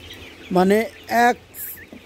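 A couple of short, nasal calls from Tiger chickens drinking at automatic drinkers in a shed ring out close by, with brief pauses between them and a faint chirp after.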